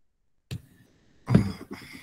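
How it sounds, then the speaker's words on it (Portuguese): A person clears their throat twice during a quiet church sermon reading: first a short scrape, then a longer, louder rasp, with silence before and between. "Tem hora que bate um pigarro"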